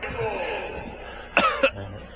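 Two short, sharp coughs break in close after a stretch of basketball commentary, then speech resumes quietly.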